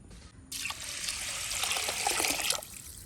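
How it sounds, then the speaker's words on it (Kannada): Water pours onto washed basmati rice in a bowl for soaking, a bright close rushing stream lasting about two seconds before it stops abruptly, with no talking. "ಈಗ ಇದಕ್ಕೆ ನೀರು ಹಾಕಿ 20 ನಿಮಿಷ ನಾವು ಇಡಬೇಕು."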